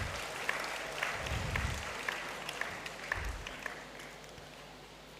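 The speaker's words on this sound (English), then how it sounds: "I need you to clap for yourselves once more." Graduates in a university great hall clap for themselves at a congregation ceremony, a moderate crowd applause that thins and tapers off over a few seconds, with a few deeper thumps mixed in.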